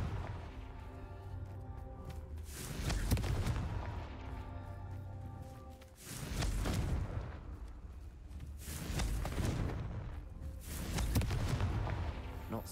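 Confringo blasting spells in Hogwarts Legacy explode in a string of heavy booms, each a loud crashing blast with a rumbling tail, arriving roughly every three seconds.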